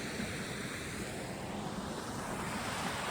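Rushing water from a waterfall roars as a steady, dense wash of sound, fairly faint and unbroken throughout, with no voices.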